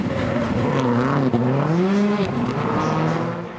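Rallycross race cars speed over a crest on a dry, dusty track at the 2019 FIA World Rallycross of Canada qualifying, engines droning loud and close with wavering pitch as they accelerate and shift.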